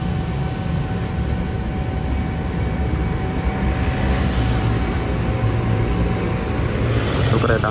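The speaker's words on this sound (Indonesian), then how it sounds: "Kereta Fajar Utama Yogyakarta." The Fajar Utama Yogyakarta passenger train passes near LRT Jakarta construction, making a loud continuous rumble and roar with a faint steady whine, growing slightly stronger toward the end.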